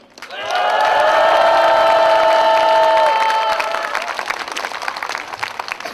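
A large crowd at a rally against the Yeongdeok nuclear power plant gives a loud, sustained collective roar of shouting, which fades into ragged cheering and clapping.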